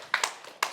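A small group at a church gathering claps hands a few times, sharp separate claps spaced out over a moment, fairly quiet.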